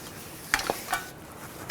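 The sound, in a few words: wiping brake rotor with a rag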